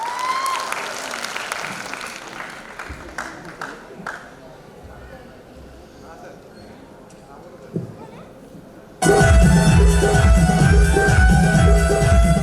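At a 75th Corps Day diamond jubilee celebration, a crowd gives a performing mother-in-law and daughter-in-law duo a sudden loud burst of applause. The dense clapping starts after a quieter, murmuring stretch and stays strong to the end.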